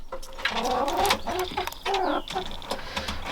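Several chickens cluck and murmur close by, overlapping soft throaty calls with a few higher squawks, continuous throughout.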